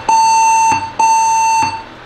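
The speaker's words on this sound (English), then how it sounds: "Still getting the same beeps." Two long electronic error beeps from a Megatouch Maxx arcade machine with a board fault, loud and steady-pitched, each lasting most of a second with a short gap between them.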